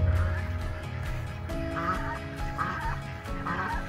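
Ducks near a pond on a farm, honking and quacking in repeated close calls over a constant low background rumble.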